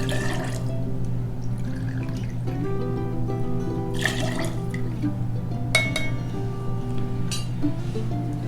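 Gin pours into a shaker for two Southside cocktails, a quiet trickling liquid over a steady low hum, with light glass clinks along the way.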